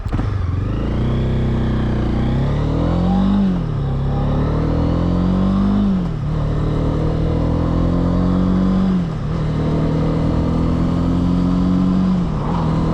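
A Honda CB300R motorcycle riding on a sunny day, its engine droning loud and close with repeated rising revs and gear-change dips, steady throughout with no talking.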